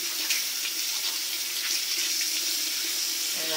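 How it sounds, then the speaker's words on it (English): Warm tap water runs steadily into a sink, a continuous close hiss and splash that holds without a break and has no talk over it. "And then you just rinse it under warm water."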